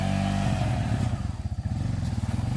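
A motorcycle loaded with bananas rolls past on a rough forest track, its engine chugging steadily close by with uneven throttle pulses and rattling.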